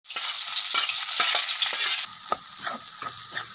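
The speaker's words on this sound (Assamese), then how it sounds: "এয়া যিখিনি আলু বইল কৰি দিছিলোঁ সেইখিনি ধুনীয়াকৈ ভাজি ল'লোঁ" Boiled potatoes and onions fry in a pan with a steady, close sizzle, with scattered stirring scrapes and clicks throughout and no talking.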